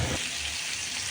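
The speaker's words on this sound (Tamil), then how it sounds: "நல்லா சாட்டே பண்ணிக்கோங்க." Onion and tomato sautéing in a pan for chutney, a close, steady hissing sizzle with a soft stir at the start.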